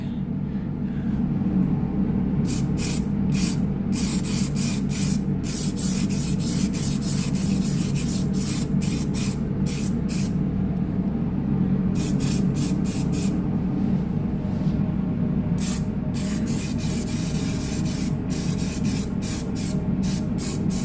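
Steady hissing aerosol spray in repeated bursts of a second or so, separated by short gaps, applied to quarter-panel and sill rust on a Ford Transit Custom, close by over a constant low engine-like rumble.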